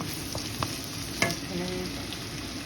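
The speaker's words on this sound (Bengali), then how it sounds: "পেঁয়াজের সাথে আছে কাঁচামরিচ, এগুলো দিয়ে দেবো" Quartered onions and green chillies fry in a pan for a sweet chili chicken dish, a steady close sizzle with scraping stirs and one sharp utensil knock.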